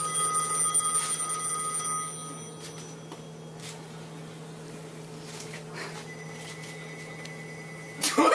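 A telephone rings in a quiet room at night, its bell tones clear in the opening two seconds, then a hushed gap with faint background hum before a brief burst of noise at the end.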